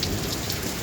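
Heavy rain pours down on a village, a constant dense roar of drops that stays loud and even through the short moment, with no talking.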